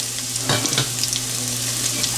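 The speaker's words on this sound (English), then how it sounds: "Heat small amount of oil, like 2 teaspoon of oil in the pan, and now I'm going to add chopped" Chopped onion frying in a small amount of hot oil in a pan for mutton pepper curry, a loud continuous crackling sizzle with a brief surge of stirring near the start.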